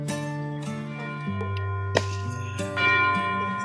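Church bells ring in a student film, with several clear tones struck one after another at shifting pitches, each note ringing on over a quiet background.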